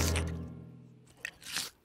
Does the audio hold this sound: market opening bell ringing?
no